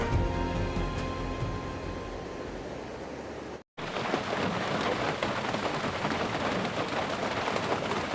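Heavy rain pours down in a steady, dense hiss at a trail shelter in the 100-mile wilderness, drumming close by on surfaces, briefly cut to silence midway before resuming just as hard.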